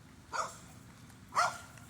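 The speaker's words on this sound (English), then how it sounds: "Oh, look at the little dog over here." A small dog gives two short barks at a distance, faint and somewhat muffled against a steady low background rumble.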